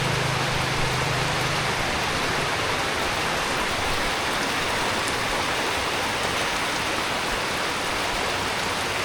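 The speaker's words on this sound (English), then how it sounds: "we're just gonna have to sit this rainy weather out for a bit" Steady rain pours down in an outdoor setting in Cần Thơ, Vietnam, a dense, even hiss that holds at constant loudness throughout, with no voices and no breaks.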